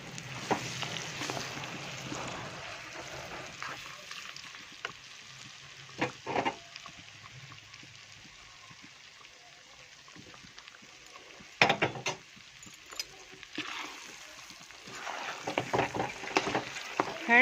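Gram flour being roasted in ghee in a kadhai, a low continuous sizzle broken by repeated scraping and stirring strokes of a spoon against the pan, louder in bursts toward the end.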